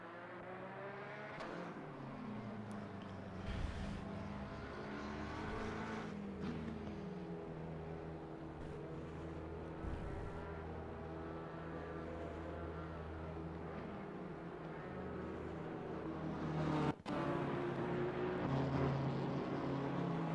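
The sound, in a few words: BMW race car driving into the pit lane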